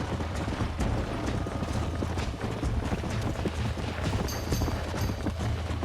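A horse gallops in the Red Dead Redemption video game, its hoofbeats a steady, close clip-clop under constant game ambience, with a brief high mechanical whine near the end.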